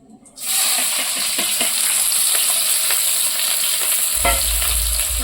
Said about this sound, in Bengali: তেল গরম হয়ে গেছে এখন আমি লঙ্কা আর পেঁয়াজগুলো দিয়ে দেবো